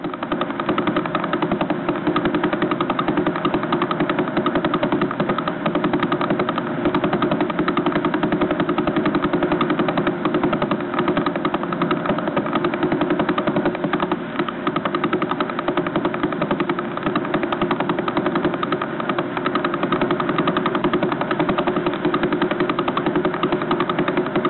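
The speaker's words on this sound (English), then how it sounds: "if you did what radio astronomers never do, and that's listen to what the radio telescope's picking up, it might sound like this" A pulsar signal picked up by a radio telescope and played as sound, a dense, continuous rumbling buzz with a rapid, steady pulsing texture that holds unchanged throughout.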